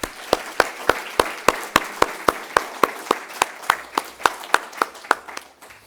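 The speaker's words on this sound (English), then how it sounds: "deserves a round of applause." Rhythmic unison clapping from an audience at a biohealth communications competition, sharp evenly spaced claps in a steady beat, loud and close, with no talking over it.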